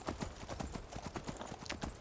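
Horse hooves clip-clop in a brisk, steady rhythm as a rider travels in Skyrim, near and continuous with a faint game backdrop.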